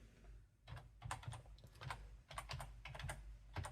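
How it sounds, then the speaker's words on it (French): Close, fast typing on a computer keyboard, clicking in bursts with short pauses, keys struck one after another, with no talking. "on va taper ici gestionnaire de périphériques"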